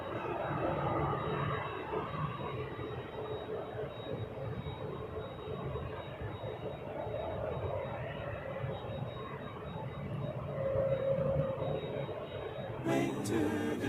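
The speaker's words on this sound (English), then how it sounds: "Max 8, lining up next, Mexico City" A Boeing 737 Max 8 jet departs Toronto Pearson for Mexico City with a steady, fairly faint engine rumble that holds throughout, ending with a brief clatter near the close.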